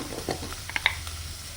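Two medium onions with a pinch of salt sauté in a pan, a soft continuous sizzle punctuated by a few quick clicks and scrapes of stirring.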